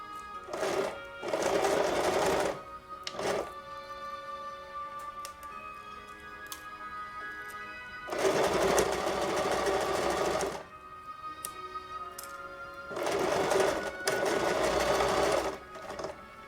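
Domestic sewing machine stitching fabric for helmet ear savers, running in three loud bursts separated by quieter pauses with faint ticking and handling sounds.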